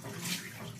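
Water runs from the tap of a Pureit Classic RO+UV water purifier in a steady, soft splashing stream, heard briefly and close without any talking.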